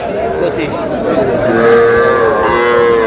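Cattle moo at a livestock market in Noakhali, Bangladesh, where young bull and heifer calves are sold, the drawn-out calls rising over a steady crowd murmur and nearby voices.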